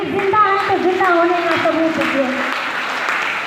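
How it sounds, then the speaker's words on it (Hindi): Audience at a women's empowerment gathering in Kanpur claps in sustained, dense applause that stays loud for several seconds, with voices and some musical tones mixed over the clapping. "तालियां बजनी चाहिए"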